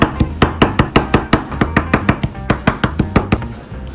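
A knife chops Pixian chili bean paste, the red-oil broad bean paste used for mapo tofu, on a board with fast steady knocks of about four per second. The strikes are close and distinct, and nobody speaks.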